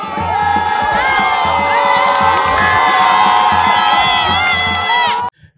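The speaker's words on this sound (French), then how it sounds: "Guéni François est donc installé sur le trône et ça s'applaudit une fois" Crowd cheering, shouting and whooping loudly and continuously at a chief's enthronement ceremony in the village of Tonla, near Oumé; dense overlapping voices sustain for about five seconds before cutting off abruptly.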